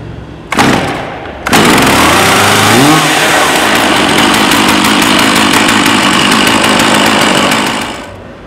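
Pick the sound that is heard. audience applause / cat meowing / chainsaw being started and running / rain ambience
chainsaw being started and running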